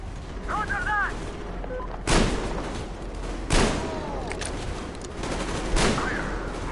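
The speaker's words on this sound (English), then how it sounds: "Covering fire for the Colonel! No saving ammo!" Gunfire rattles through covering fire in the Metro video game, with dense broadband bursts near 2, 3.5 and 6 seconds over a continuous clatter, and faint voices underneath.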